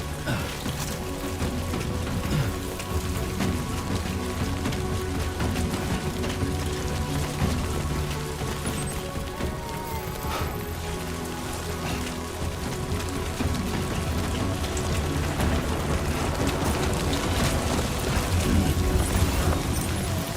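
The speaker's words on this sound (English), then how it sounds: "Sound is incredible. Like, I sound like I'm in the rain." Steady rain falling in the video game Death Stranding 2, a dense continuous wash of patter and drops held at an even level throughout, with no voices over it.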